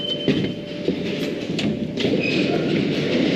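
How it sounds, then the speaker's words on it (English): Interior rumble of a Paris Metro train running through the underground, a steady low roar with faint rail clatter and brief metallic squeals, continuous and close throughout. "Going to be taking the Paris Metropolitan, the metro system."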